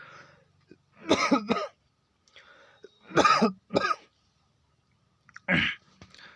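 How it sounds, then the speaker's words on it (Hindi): A person coughs close to the microphone in three separate harsh fits, each a short cluster of rough bursts, with quiet pauses between them. "खांसी क्यों आ रही पता नहीं।"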